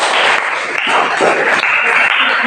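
A class applauding a presenting group, a loud continuous patter of many hands clapping at close range with a voice talking over it.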